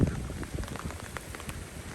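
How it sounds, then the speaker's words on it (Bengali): Light drizzle falls during a gathering pre-storem Bengal afternoon, a soft steady patter of fine raindrops on surfaces, continuous and fairly faint with a few brighter drops standing out. "আর এই যে এখন কিন্তু ঝিরিঝিরি বৃষ্টি হচ্ছে।"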